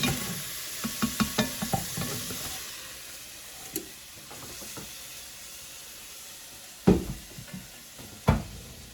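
Ground meat for Zuppa Toscana sizzles softly in a pan, a low steady hiss broken by sharp clinks and scrapes of a utensil stirring, louder knocks near the end.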